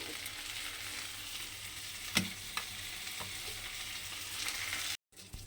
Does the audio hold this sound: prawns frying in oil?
yes